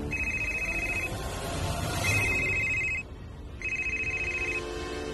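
A telephone rings in three evenly spaced electronic trilling bursts over low background noise, loud and close.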